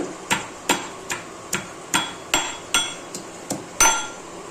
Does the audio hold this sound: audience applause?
no